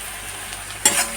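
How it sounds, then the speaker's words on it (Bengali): Onions frying in a pan, a steady faint hiss that swells into a brief louder sizzle or stir near the end, with no voices. "এদিকে পেঁয়াজটা লাল করছি বন্ধুরা"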